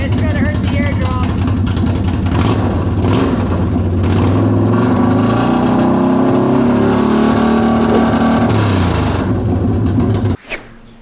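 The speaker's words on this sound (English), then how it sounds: "fire this thing up with no exhaust and see how loud it is and what it sounds like without any muffler on it" Can-Am Renegade 1000 ATV engine running with no exhaust or muffler fitted, a loud raw close-up rumble that revs up and settles back over several seconds before cutting off abruptly.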